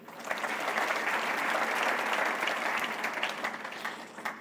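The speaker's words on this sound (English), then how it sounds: "I want you to clap for Aisha Jomo." Sustained applause from a crowd at a public lecture at Pwani University, Kenya, a dense wash of clapping that swells and then gradually thins out.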